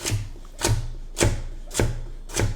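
A sharp kitchen knife slices vegetables into thin julienne strips on a cutting board, five crisp, evenly spaced chops roughly half a second apart, close and clear.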